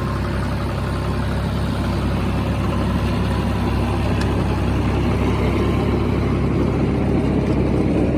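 A John Deere 5055E tractor pulls a seven-foot super seeder through soil in first gear, its engine a loud, steady, unbroken drone near the listener with no voices over it.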